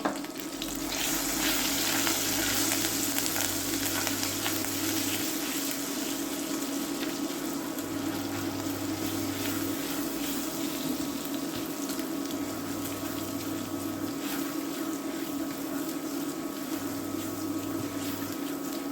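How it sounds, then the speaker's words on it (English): Pepper X vindaloo curry bubbling and sizzling in a pan on the stove, a steady close-up frying crackle that continues without break. "Now that's bubbling nicely."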